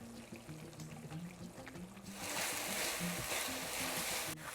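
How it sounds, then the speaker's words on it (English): Sauce for cauliflower rice bubbling and reducing in a pan: a steady low simmer with soft pops at first, then a louder, broad hiss of boiling that continues throughout, close up and with no talking. "The sauce has now reached the boil."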